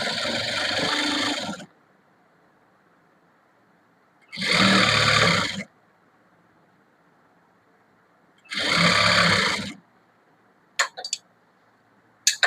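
A sewing machine stitches a chudithar top in three separate bursts of loud, close, steady whirring with silent gaps between them, followed by a few quick clicks.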